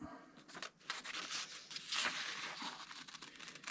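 Scissors or a blade cut through a leather knife-sheath pattern along its outer line, giving a run of close crisp rasping and crinkling snips, with a brighter tearing burst midway and no voices.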